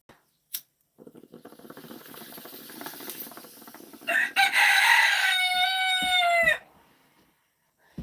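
A rooster crows once in a long, loud, harmonic call, preceded by softer scratching and rustling, then fades to near silence.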